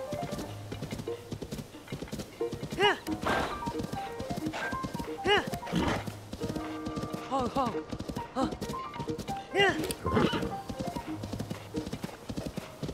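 A horse in a Zelda video game clip-clops steadily throughout, hooves close and rhythmic with brief whinny-like tones, while a person talks over much of it.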